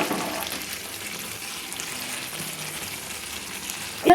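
Spicy chicken curry with boiled potatoes sizzles steadily in a pan, a continuous close hiss of frying with a sharper splash and crackle right at the end as water goes in.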